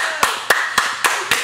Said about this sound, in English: Now, I want everybody to clap for Sophie's bold new decision.